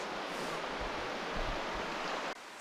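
Water laps and washes at a lake shore beside a campsite in Algonquin, a steady broadband wash filling the short clip, close and fairly loud, with no voices.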